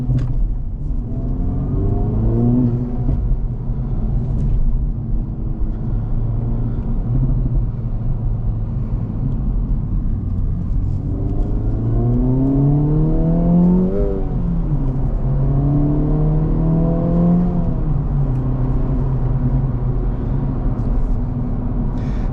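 A 2024 Acura Integra Type S revs continuously and close up, its engine climbing and falling in pitch in several swelling sweeps, with rev-matched blips and low exhaust burbling underneath.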